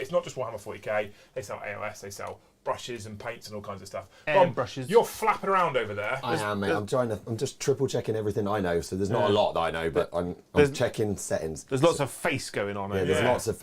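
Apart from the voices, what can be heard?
No distinct noise like a dog, phone or traffic.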